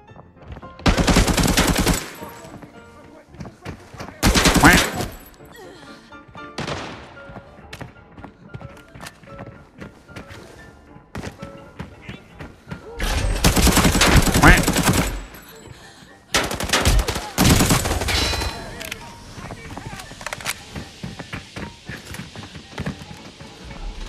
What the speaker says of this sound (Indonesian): Enak banget pakai AKM Fire, guys.